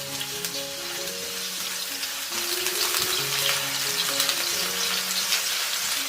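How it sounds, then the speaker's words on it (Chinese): Ginger slices crackle in hot oil in a wok, a dense, steady sizzle that swells slightly partway through and stays loud and close throughout. "起锅热油，先爆香姜片"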